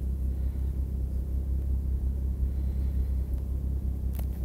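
A BMW with a gen 2 B58 engine and an Alibaba intake manifold rumbles off throttle while driving. The low engine and road drone holds steady and fairly loud from start to finish with no talk over it.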